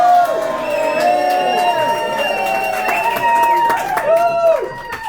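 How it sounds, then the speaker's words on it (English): An audience at an improv comedy show at the Edinburgh Free Fringe cheers and whoops loudly, overlapping shouts and hollers sustained for several seconds from a packed room, close and energetic. "give us a cheer, a nice big cheer, if you want Craig to close the show by singing this"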